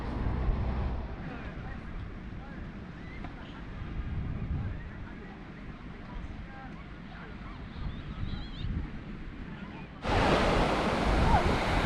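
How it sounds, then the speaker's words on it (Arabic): Sea waves on Martil beach in Tetouan, Morocco, wash steadily in a broad continuous roar with wind, growing louder and brighter for the last two seconds. "ها انتم على البحر كامل"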